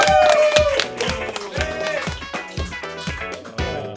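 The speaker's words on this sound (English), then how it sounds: "Guys, huge round of applause." Audience applause greets arriving guests at a comedy Christmas special, scattered claps rising under loud festive music with a strong beat.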